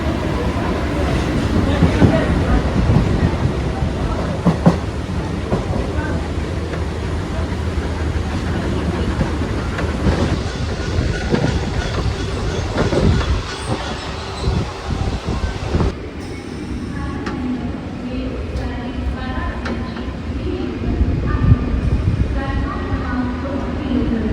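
Steady rumbling of a packed Uran to Nerul local train rolling along rails, continuous and fairly loud, with a busy crowd of voices chattering throughout.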